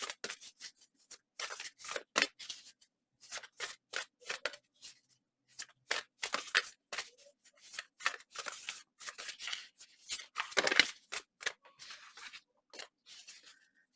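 Tarot cards being shuffled during a reading, a run of crisp, close riffling and flicking bursts in quick irregular clusters with short pauses between them, no voices.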